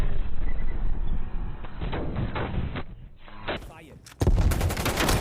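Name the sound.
gunfire in the video game Black Ops Cold War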